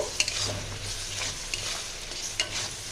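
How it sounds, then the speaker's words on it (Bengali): Tomato paste fries in a pan for chicken masala, a soft continuous sizzle broken by a few quick scraping stirs of the spoon. "দুটো টমেটোকে পেস্ট করে রেখেছিলাম ওইটা। এটাও 1 মিনিট আমি ভাজবো।"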